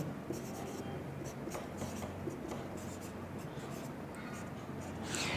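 Chalk or marker writing out an equation on a classroom board in a math lesson, a steady run of short scratchy strokes with small pauses, fairly close, with no talking.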